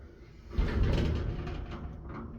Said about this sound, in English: We'll open the door.